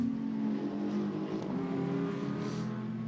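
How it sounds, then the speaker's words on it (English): Maserati GT2 race car engine roaring steadily as it runs a track lap during GT2 Europe qualifying at Barcelona, a sustained mid-distance drone with a slight rise and fall, no speech. "the number 2 LP Racing Maserati GT2, a car making its debut at the end of last season, and makes a great noise, the Maserati"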